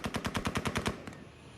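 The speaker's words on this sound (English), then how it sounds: "And next to the airfield, gunfire." A rapid burst of about nine gunshots in quick succession, sharp and evenly spaced, followed by a single later shot and fading quiet, near Kabul airfield in August 2021.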